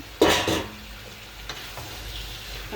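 Tomatoes and potatoes go into a frying pan of prawn curry with a brief loud clatter and sizzle, which quickly fades to a faint, steady fry.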